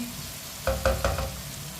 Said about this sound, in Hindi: शिमला मिर्च को भी 1 मिनट के लिए पका लिया मैंने